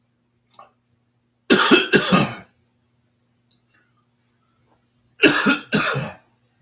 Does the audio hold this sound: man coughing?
yes